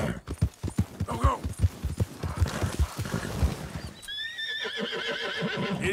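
A horse in Red Dead Redemption 2 clip-clops with a fast run of close hoofbeats, then gives a loud, wavering neigh.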